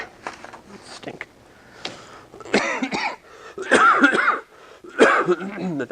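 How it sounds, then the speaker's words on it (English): A man coughs repeatedly in a lecture room during a talk on abstract algebra, a cluster of harsh, close coughs and throat clearing that grows louder toward the end. "Eventually I'll not cough."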